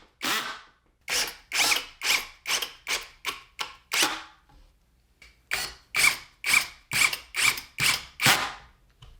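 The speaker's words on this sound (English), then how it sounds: "putting the pocket hole screws in here" Pocket hole screws are driven into wood with a power driver in a long series of short, rapid, ratcheting bursts, each rising and cutting off, close and loud with a brief pause midway.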